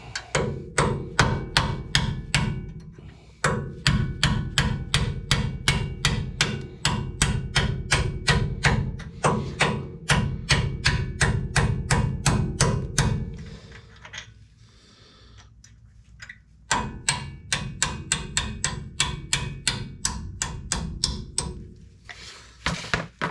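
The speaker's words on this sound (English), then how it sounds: "Let's see if we can get a good whack on it." A hammer repeatedly whacks a car brake caliper slide clip, sharp metallic strikes coming in rapid, regular bursts at close range, with a short pause before the pounding resumes and no talk.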